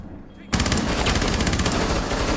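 Automatic gunfire from the video game Rainbow Six Siege erupts after a brief quiet lead-in, a loud, rapid, continuous stream of shots that keeps going to the end.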